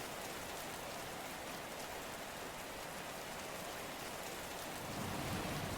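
Steady rain falls in a dense, even hiss, with a low rumble of thunder swelling near the end; no voices.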